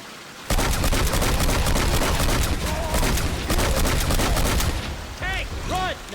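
Dense, continuous gunfire aimed at a Tank in Left 4 Dead 2, rapid overlapping shots sustained loudly for several seconds, with brief warbling tones near the end.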